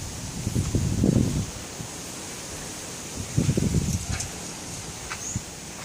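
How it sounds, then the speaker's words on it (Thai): Strong wind gusts through plum tree leaves in a garden, with two loud rustling surges separated by a steady, softer breezy hiss. "ลมแรงนะเนี่ย"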